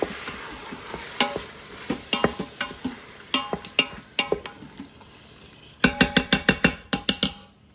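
Butternut squash chili with fire-roasted diced tomatoes cooks in an Instant Pot, with a soft sizzle under a series of sharp clacks and scrapes from stirring, coming in a loose rhythm and then a quicker cluster.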